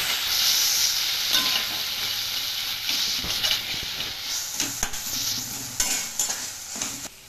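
Potato masala and tomato sauce being stirred and mixed in a hot pan for atta and suji samosa filling, with a steady loud sizzle and frying hiss and repeated scraping spoon strokes throughout.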